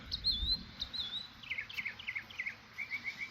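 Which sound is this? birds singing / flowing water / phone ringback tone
birds singing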